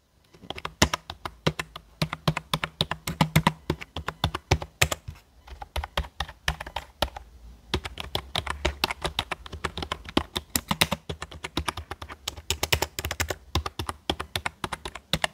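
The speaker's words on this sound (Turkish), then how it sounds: "Ses performans testimizde klavyeyi mikrofona yakın tutuyorum." Rapid typing close to the microphone on a Crown Micro CMMK 08 quiet keyboard, crisp clicky keystrokes in uneven bursts with short pauses, no voices.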